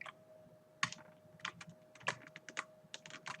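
Arrow keys clicked on a computer keyboard to steer a rollerball in a Unity game, a run of quiet, close, irregular key taps with a faint steady hum beneath.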